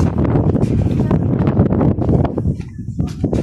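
Steady wind buffets the microphone with a constant low rumble, and a voice talks faintly underneath.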